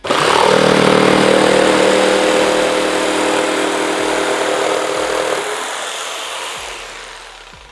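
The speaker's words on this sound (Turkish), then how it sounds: "Şimdi full devirde bu MDF parçayı bir keselim bakalım" A loud, steady power-tool whine runs continuously as an electric jigsaw cuts through MDF at full speed, with a buzzing motor tone that eases off and winds down toward the end.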